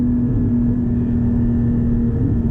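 Porsche 718 Cayman GT4 with manual gearbox pulling in second gear, a steady loud engine drone held at a constant pitch from inside the car, with no talk.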